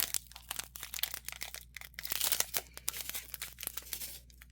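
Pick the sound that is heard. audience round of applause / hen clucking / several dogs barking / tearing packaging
tearing packaging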